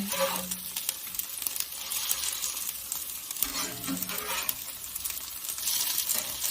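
Latkes fry in a pan with a steady sizzle while a metal spatula scrapes and clinks against the pan several times as they are flipped and patted down.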